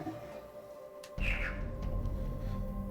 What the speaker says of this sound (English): It's kind of like a chirp, chirp, chirp,